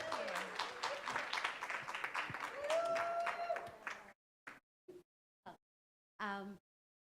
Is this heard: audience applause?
yes